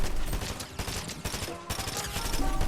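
Burst SMG fire in a Fortnite aim-practice map, a dense run of quick gunshot bursts that comes in clusters with short gaps between them.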